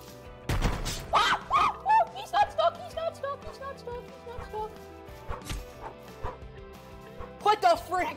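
A dog barks and yips in a run of sharp, fairly close calls, with whimpering, high-pitched tones between them and a final burst of barking near the end; a voice talks intermittently underneath.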